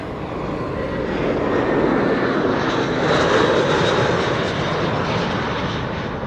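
A Vueling jet airliner in a Barcelona special livery, eight years old, arrives from Alicante with a loud, steady engine roar that swells slightly midway and holds, with no other sounds.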